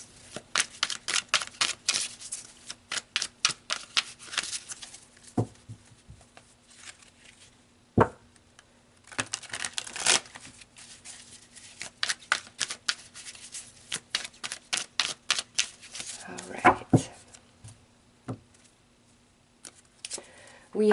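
Tarot cards being shuffled and pulled, with repeated crisp riffling and flicking bursts, close and fairly loud, broken by short pauses and a few soft taps and handling sounds.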